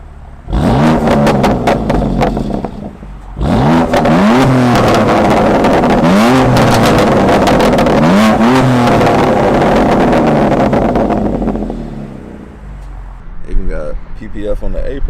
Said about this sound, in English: Let me just hear this exhaust.